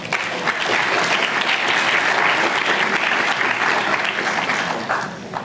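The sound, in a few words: audience applause for the speakers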